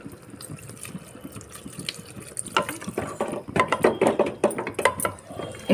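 Water pours into a pot of masoor dal cooked with Malabar spinach and cucumber, starting as faint trickles and swelling into a louder, splashing gush over the last few seconds.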